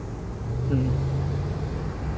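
Highway traffic in Montreal near Honoré-Beaugrand, a steady rumble of passing cars at moderate distance, with a person speaking over the noise.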